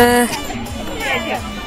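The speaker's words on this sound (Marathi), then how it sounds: "आहे तशी थोडीफार गर्दी आहे।" Crowd chatter and general hubbub at the Tilse village market, a steady murmur of many voices around a nearby speaker who talks over it throughout.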